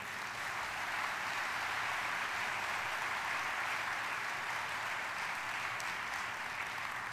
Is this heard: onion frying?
no